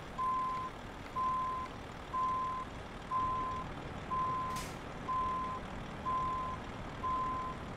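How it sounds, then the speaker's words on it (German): Truck reversing alarm in Euro Truck Simulator 2, eight evenly spaced single-pitch beeps about once per second over a low engine drone, with a brief hiss of air partway through. "du kannst aufhören zu piepsen"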